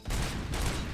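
Three-round burst gunfire in Robocop: Rogue City, a loud, close, rapid volley of shots that fills the brief moment without speech.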